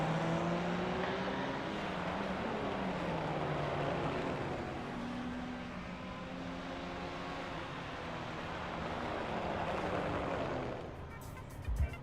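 GT3 race cars cross the finish line at Mount Panorama in a racing game, a steady loud engine roar with rising and falling pitch sweeps as cars pass, easing slightly near the end.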